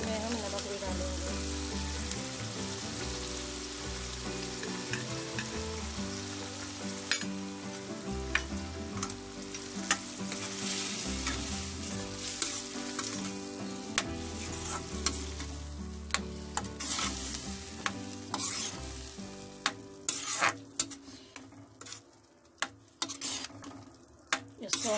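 Mustard greens with salt cooking in a pan give a loud, steady sizzle with irregular stirring clatter and utensil knocks, thinning toward the end as sharper clicks and taps take over.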